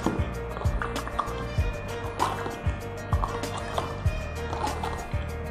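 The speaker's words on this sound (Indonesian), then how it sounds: "saya aduk." A spoon stirs Kangen Water in a glass, clinking against the sides in a steady rhythm of roughly two taps per second, with faint liquid swirling underneath.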